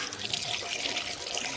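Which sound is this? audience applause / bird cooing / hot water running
hot water running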